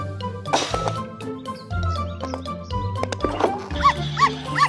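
Cartoon puppy barking in a French children's animated show, a few short yips over bouncy background music with other cartoon effects.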